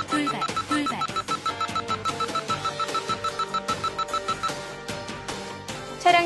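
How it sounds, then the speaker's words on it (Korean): An in-car sudden-obstacle warning on a driving-test course sounds as a rapid, evenly repeating beep that runs for about six seconds, loud and close. "돌발이라는 경고 음성과 동시에 차량 앞쪽에 설치된 돌발등이 켜지게 되면"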